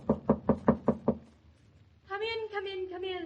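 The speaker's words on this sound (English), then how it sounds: "Knock again." Six sharp, evenly spaced knocks on a door in a radio drama, loud and close, followed by a pause and then a voice speaking.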